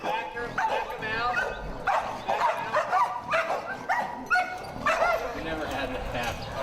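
A reactive shelter dog on leash barks and yips in repeated sharp bursts with whimpering between, close and fairly loud over a few seconds.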